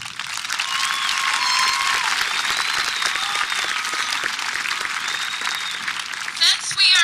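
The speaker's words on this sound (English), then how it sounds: "they deserve a big round of applause" Sustained applause for graduates' parents and guardians at a 2011 high school graduation, a large crowd clapping loudly and steadily for several seconds, with scattered cheers and voices mixed in.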